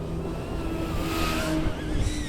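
A 1/32-scale RC Apache AH-64 helicopter flies past, its thin, high whine rising and bending in pitch as it approaches and moves away, over steady low background noise, with no talking.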